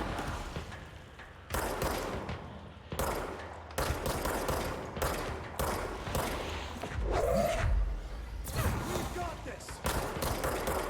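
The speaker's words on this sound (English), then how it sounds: "Would love to hear some other gunshots" Bursts of gunfire in the video game Control, a series of rapid repeated shots in clusters over steady game background, with a low thump midway and voices talking now and then.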